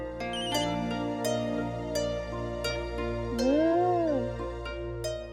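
Phone ringtone playing a melodic tune in a home, steady repeated notes with a rising and falling tone pattern, fairly loud and close, no talking over it.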